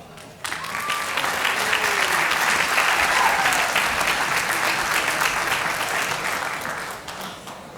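Applause from an audience at a senior awards and music honor society cording ceremony swells quickly and holds as a dense, sustained roar of clapping, then gradually tapers off.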